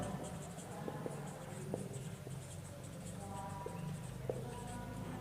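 A pen scratches steadily across paper while writing math notes, a continuous close scratching with small tapping strokes and no voice.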